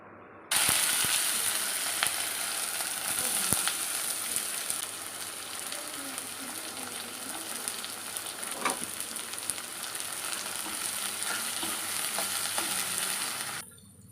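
Chopped vegetables frying in ghee for a millet soup give a steady, close sizzle and crackle, with occasional stirring clanks against the pan and no talking.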